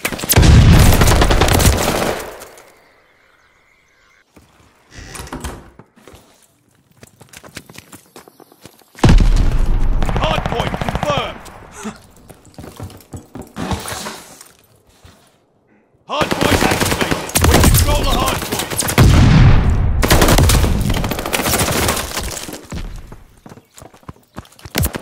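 Fighting at a hardpoint in Call of Duty: Vanguard brings long, loud bursts of rapid gunfire. Shorter scattered shots and quiet pauses fall between the bursts, and brief voice callouts appear between them.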